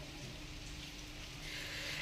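Steady rain falling outside a home in a monsoon downpour, a continuous soft hiss of drops hitting surfaces, even and moderately close, with no talking.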